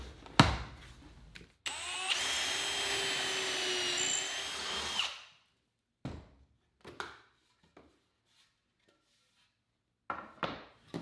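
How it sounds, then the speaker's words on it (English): Power drill boring pocket holes into wooden garden bench aprons, a loud steady whine lasting about three seconds, framed by short knocks and clatter of handling the workpiece before and after. "Now I've got the pocket holes drilled in the aprons"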